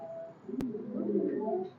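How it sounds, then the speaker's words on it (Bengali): Highflyer pigeons coo close by in a soft, low, throaty burble, preceded by a sharp click, with no talking. "আপনারা একটু কবুতর গুলো দেখেন"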